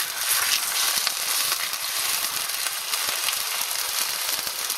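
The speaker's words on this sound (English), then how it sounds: "throw the steak on. Just gently mash it down so it's nice and flat" Steak pressed flat in a hot pan sizzles loudly and steadily, a dense continuous frying hiss with small crackles, close up and with no talking.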